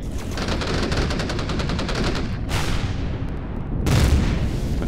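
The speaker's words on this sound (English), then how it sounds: "And we'll try using some of these cannons." Cannons firing in the space survival game Empyrion, a rapid burst of repeated shots followed by two loud booming blasts with long decaying tails, with no talking.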